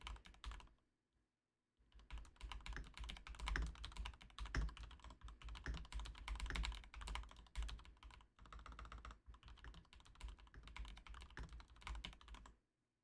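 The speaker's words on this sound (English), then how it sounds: "I have no idea how loud my keyboard is on stream." Rapid keyboard typing runs almost continuously during a severe weather livestream, a dense clatter of keystrokes with short pauses, fairly close and moderately loud, with no voice.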